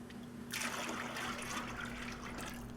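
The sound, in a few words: pouring metallic green Plasti Dip out of a gallon can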